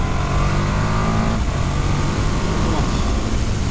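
A 2019 KTM Super Duke GT motorcycle engine roars steadily at high revs under heavy wind rush, with a shift in tone midway as it accelerates during riding.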